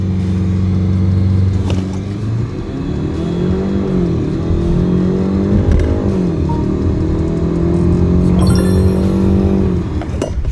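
A BMW X3 accelerating hard from a standstill toward 100 kph, its engine loud and close with rising revs, brief dips at gear changes and a continuous cabin drone.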